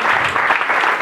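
A brief burst of audience applause at a Romanian stand-up comedy show: a short, dense patter of many hands clapping at close, even loudness, without speech.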